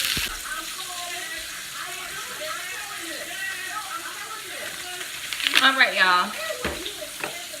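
A pot roast sears in a pan with a steady sizzle and crackle, close up, under a person talking casually over it.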